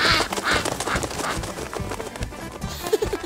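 A mother duck quacks amid a busy jungle scene, loud nasal calls mixed with galloping clip-clop hoofbeats and other animal noise, with a cluster of quacks near the end.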